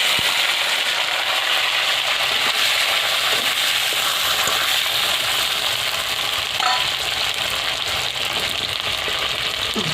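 Cumin seeds sizzle in hot oil left over from frying fish, a steady bright crackling hiss with faint stirring clinks, close and unbroken.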